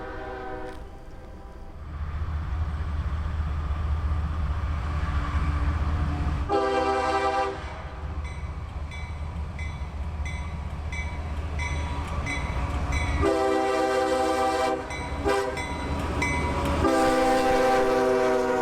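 CSX 1871, an ACL heritage locomotive, hauling a freight train past on ACL trackage, its horn sounding in several long loud blasts over a steady heavy rumble of engine and rolling cars.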